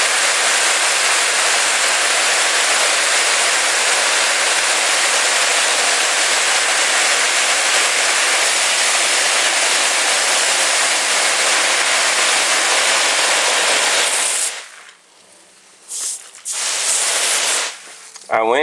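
A garden hose sprays water onto onion plants in dusty, caked garden soil: a steady, close hiss of water runs for about fourteen seconds, then cuts off, followed by a few brief spurts and pauses.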